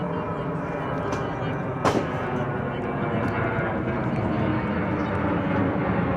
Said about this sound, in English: We have an aeroplane flying over